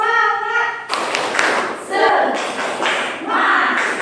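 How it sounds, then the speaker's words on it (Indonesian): A class group claps out a rhythmic cheer, quick patterned hand claps with short pauses between bursts, and voices call along with the beats. "Oke, luar biasa tepuk tangan."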